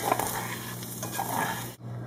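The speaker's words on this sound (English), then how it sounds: "So I just like to sprinkle the top of the tofu with that and stir it around." Seasoned tofu stirred and frying in a pan for a veggie pot pie, a steady close sizzle with light utensil scrapes, then cutting off abruptly near the end.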